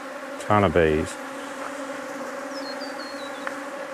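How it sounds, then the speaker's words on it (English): Steady insect buzzing hums throughout, a dense drone of many honey bees close by at a defensive top bar hive, with a brief louder tonal burst near the start. "just a ton of bees"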